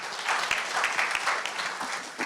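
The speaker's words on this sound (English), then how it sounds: "The claps are back." An audience at a creative-industry confidence panel claps steadily for a couple of seconds. The clapping is moderately faint and fairly dense, with no talk over it.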